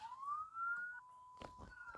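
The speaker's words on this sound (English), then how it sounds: "Now they hear one siren." A police siren wails in a steady rising and holding tone, fairly faint and distant, cut by a couple of short bursts of noise toward the end.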